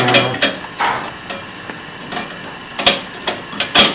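A deburring tool scrapes and clicks against the edge of a metal door part for a Cub aircraft in a workshop, giving a series of short, sharp ticks and scraping strokes at irregular intervals, fairly close and with no talking.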